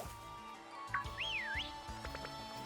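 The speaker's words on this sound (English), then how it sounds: "I whistled at you." In the video game Pokémon Shield, the player character gives a short rising-and-falling melodic whistle, clear over quiet game background sounds with soft footsteps and ambient tones.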